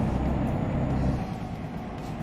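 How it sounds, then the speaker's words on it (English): A truck engine brake in Euro Truck Simulator 2, a loud, low, continuous racketing drone, steady for about a second and then easing slightly. "All that racket you hear is the engine brake, which is a little different from American ones."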